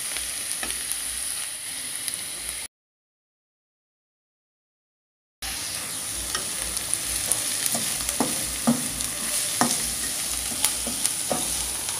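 Garlic frying and browning in a hot pan with prawns and pumpkin nearby, a steady close sizzle with scattered crackles and occasional stirring scrapes, broken by a few seconds of silence partway through.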